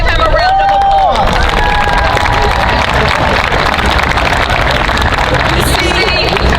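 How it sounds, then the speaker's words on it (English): Crowd at a stadium ribbon cutting ceremony applauding and cheering, a loud steady wash of clapping and crowd noise with a whistle near the start, continuous throughout. "Let's give him a round of applause."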